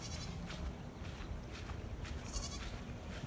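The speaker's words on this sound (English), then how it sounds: "The goats are on top of my Jeep." Goats standing on top of a Jeep bleat in a few wavering calls over a constant low rumbling background, fairly faint and close.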